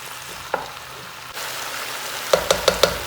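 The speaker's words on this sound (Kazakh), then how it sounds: "Қуырып жатқан кезде осылай араластыру маңызды, себебі бір келпі қуырылып майға шыланып осылай тұру үшін." Onions frying in oil for lagman, a soft sizzle that grows louder as they hit the pan, then four quick clacks of a utensil stirring and tapping the pan near the end.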